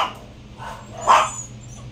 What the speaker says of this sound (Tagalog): ang daming aso sa baba.